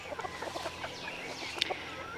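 Several roosters from a small backyard flock cluck and call in short, overlapping bursts, close by and moderately loud, with one sharper squawk standing out near the end.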